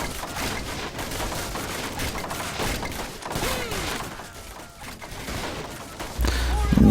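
Cannon and gunfire in a Men of War Assault Squad 2 battle crackle as dense, overlapping volleys and thumps, loud throughout and swelling into a heavier boom near the end.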